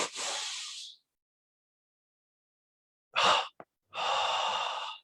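Deep double-inhalation breathing during a guided meditation: a forceful close exhale, then silence, then two sharp sniffing inhales in quick succession and a long, loud, rushing exhale.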